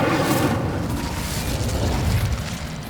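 A roaring burst of flame from the Incendio fire spell in Hogwarts Legacy, a loud, sustained whoosh filling the whole moment without a break.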